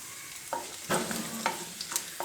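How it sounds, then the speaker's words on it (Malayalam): Mustard seeds, with a pinch of fenugreek and dried red chillies added, crackle in hot oil for a kovakka (ivy gourd) curry: a quiet, steady sizzle broken by a few sharp pops and light stirring scrapes. "അപ്പോൾ നമ്മുടെ കടുക് പൊട്ടി തുടങ്ങിയിട്ടുണ്ട്"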